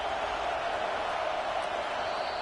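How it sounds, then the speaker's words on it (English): Stadium crowd in the NCAA 25 college football video game at a Boise State versus Nebraska playoff game, a dense, loud, unbroken roar with no distinct voices standing out. "listen to this crowd noise. This stadium is vibrating."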